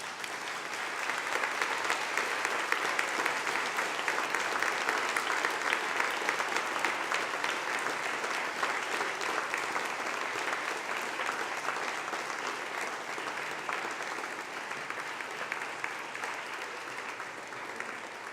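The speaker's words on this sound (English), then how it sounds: "Turn round and applaud those people behind you" A graduating class stands and applauds the audience behind them at a graduation ceremony, a dense, loud, steady wall of clapping from many hands that holds for the whole stretch with no pause.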